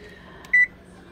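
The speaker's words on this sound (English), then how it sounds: "we will set this timer for about 8 minutes" A kitchen timer gives one short, clear electronic beep as it is set for eight minutes while macaroni cooks, with quiet room tone before and after.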